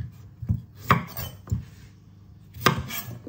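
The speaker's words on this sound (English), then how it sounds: "We are gonna chop this bad boy up into really nice," A knife chops through a raw sweet potato on a board into thin fry shapes, four sharp, separate thuds spaced irregularly, close and fairly loud, with quiet gaps between.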